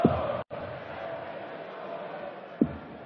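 A 3,000-strong crowd at the German Darts Grand Prix in Munich roars in a steady, loud wash of cheering and chanting, broken by a brief cut and a sharp burst near the end.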